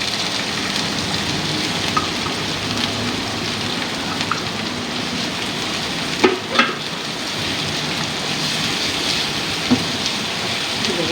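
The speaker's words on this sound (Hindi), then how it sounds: "प्याज फ्राई कर रही हूँ मैं।" Onions frying in about two tablespoons of oil in a frying pan, a dense, steady crackling sizzle close by, with a few soft stirring knocks and no talking.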